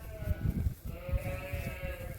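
Sheep bleat repeatedly in a farm shelter being readied for winter, several close, overlapping calls in an uneven rhythm over steady low rumbling noise.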